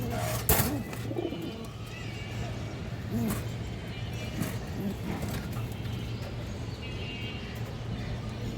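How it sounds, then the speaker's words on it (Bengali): Soft coos of high flyer pigeons, including a female, repeat intermittently under a constant background hum and shuffling noise, fairly close. "একটা হাই ফ্লেয়ার বুধাপোস্ট মাদি কবুতর"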